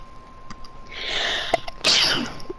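A single close sneeze with a sharp intake and burst, followed by a brief breathy exhale.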